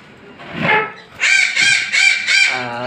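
A pair of cockatiels call loudly and close, one harsh screech followed by a run of four rapid shrill squawks and a lower trailing note.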